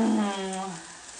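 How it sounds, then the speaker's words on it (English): Garlic and cauliflower sizzle in a hot pan, a steady broadband crackle that fades slightly toward the end, with a voice faintly over it at the start. "Can you see some of the sizzlings"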